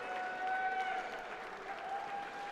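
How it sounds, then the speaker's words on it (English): A crowd applauds in a basketball fieldhouse during a college men's game, a steady wash of clapping that rises and falls slightly, with sneaker squeaks on the court cutting through the applause. "Holt Fieldhouse applauds"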